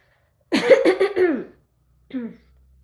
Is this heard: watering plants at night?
no